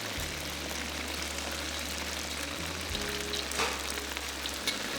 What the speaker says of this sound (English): Fry the fish till they are lightly golden brown.